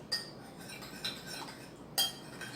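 A spoon stirring lime juice into soup, three light metallic clinks against the pot spaced about a second apart, faint and close over quiet background hiss.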